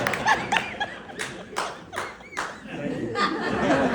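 Scattered claps and light laughter from a small crowd at a stand-up comedy set, with voices talking over the top; the applause is thin and uneven rather than a full ovation.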